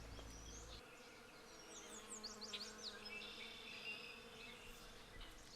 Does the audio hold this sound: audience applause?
no